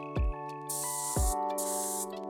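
Two bursts of broadband hissing paint spray from a spray gun, each about half a second, starting after a low thump and over a steady hum in the background.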